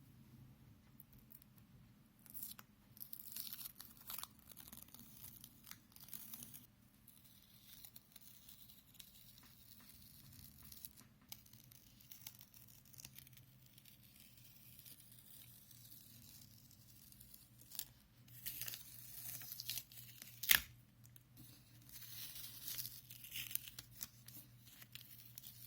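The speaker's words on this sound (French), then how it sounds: "On retire le scotch." Masking tape is peeled slowly off watercolor paper, giving quiet intermittent tearing and crinkling close by, with soft rips scattered through long stretches of near silence and one sharper snap near the end.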